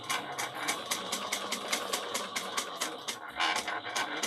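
A sewing machine back stitching through a handbag and its lining, a fast, even rattle of needle strokes close up with a short break near the end, and no talking.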